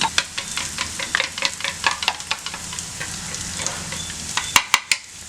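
Beaten eggs whisked with a ladle for an egg biryani, a quick run of rhythmic metallic clinks and swishes over a low hiss, ending in a few sharper taps.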